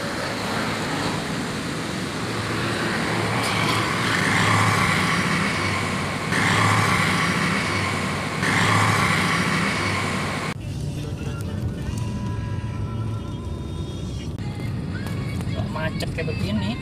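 A congested Jakarta street jammed with motorcycles, a steady broadband roar of engines and road noise that shifts and thins partway through, with people talking over it.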